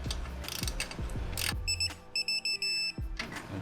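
Torque wrench tightening exhaust bolts to 21 Nm on a supercharged Mercedes-Benz, heard as a few close ratcheting clicks followed by several short high-pitched beeps.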